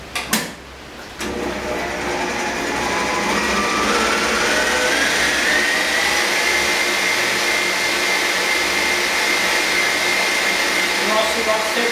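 An electric mixer whips pastry cream together with whipped cream, a steady loud motor whir running continuously after a brief start, with no pauses.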